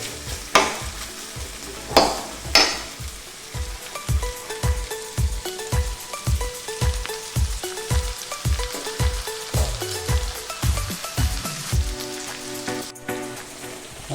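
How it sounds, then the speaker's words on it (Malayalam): Onions fry in a pan for a Kerala-style beef pepper roast as a spoon stirs them, with a steady close sizzle broken by rhythmic scraping strokes and a few louder clanks, and no voices. "ഉള്ളി ഏകദേശം ഒന്ന് വാടാൻ പാകും. നമുക്കൊന്ന് ഇളക്കി കൊടുക്കാം."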